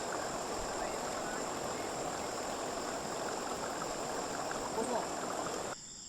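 A river flowing steadily during a river crossing, a constant broad rushing wash of water that stays even and moderately loud throughout, ending with a slight drop near the end, with no clear talking.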